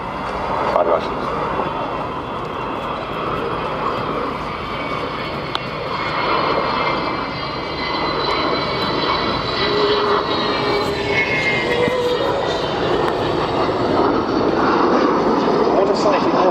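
An Avro Vulcan jet bomber roars steadily overhead during an air show display at RAF Waddington, a loud continuous engine rumble that swells toward the end, with a voice talking over it.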